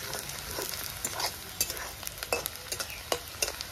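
Dried chillies, bay leaf, cumin, garam masala and chopped onion fry in mustard oil in a wok. A constant sizzle is broken by frequent scraping clicks of a stirring spoon.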